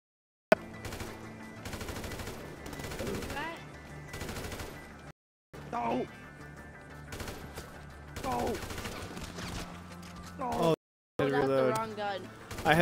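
Rapid automatic gunfire from a GTA 5 match crackles in sustained bursts, broken by short silent gaps, while people talk over it.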